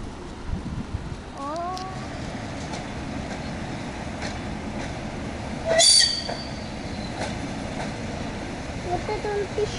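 An electric passenger train pulls into a station, its wheels and brakes letting out thin squeals, one sharp burst standing out over a steady rumbling roar, with faint voices nearby.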